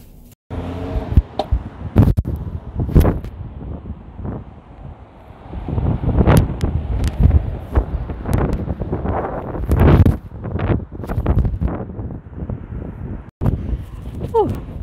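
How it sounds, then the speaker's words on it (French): Gusty wind buffets the microphone in uneven bursts, loud and close, with people talking throughout. "Plus, il y a un vent."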